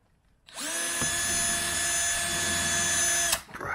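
A power drill bores new bolt holes for a Corvette ZR1 rear spoiler, whining steadily at high speed for about three seconds, loud and close, then stopping abruptly.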